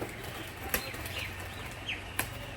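Outdoors, a trick-flying pigeon claps its wings in sharp, brief bursts, a few distinct snaps over a low background hum, with soft fluttering between claps.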